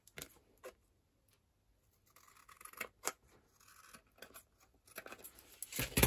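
Scissors cut straight across a piece of card for a 3D shaker display card, with a few sharp snips and then a longer run of scraping cuts, close and fairly quiet, with no talk.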